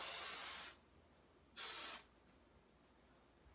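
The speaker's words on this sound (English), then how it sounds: "Now some hairspray, and we're just going to," Hairspray is sprayed onto hair in two short, soft hissing bursts with a brief pause between them, in an otherwise quiet room.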